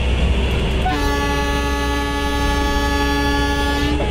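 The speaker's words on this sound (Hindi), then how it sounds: "अब हॉर्न वगैरह बजा कर हम लोग यहाँ से डिपार्ट करते हैं।" A WAG12 electric locomotive in the MSTS train simulator sounds a loud, sustained horn for about three seconds over a steady engine rumble.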